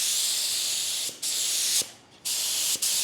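A can of clear coat spray paint lays a light coat over a patina finish in three hissing bursts, with brief gaps and faint nozzle clicks between them, close and steady.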